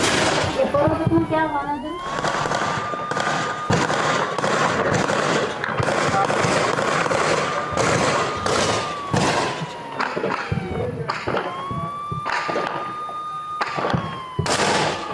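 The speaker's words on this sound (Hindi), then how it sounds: "बहुत जोर के धमाके इसमें साफ साफ सुनाई दे रहे हैं" Loud explosive booms and sharp bangs from a drone attack and anti-drone gun fire in Samba, Jammu and Kashmir go off repeatedly, some distant, some near, while voices talk and shout over them.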